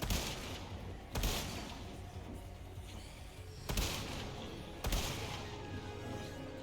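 Video game gunfire: a few loud, sharp shots about a second or more apart cut through a steady, noisy wash of background sound.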